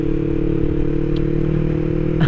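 Yamaha R25 two-cylinder motorcycle exhaust idling steadily, a smooth even low drone with strong harmonics, continuous and close, with a brief faint clatter near the end.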